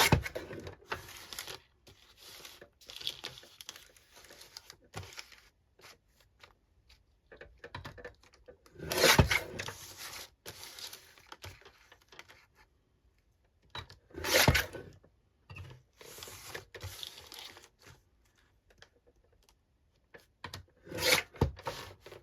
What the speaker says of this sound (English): trim down the edges